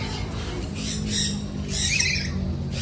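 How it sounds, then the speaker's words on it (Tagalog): Several birds at a wildlife park in Quezon City give harsh squawks and calls in bursts over a low background hum, fairly close, with faint voices around. "Ang gaganda ng bird dito."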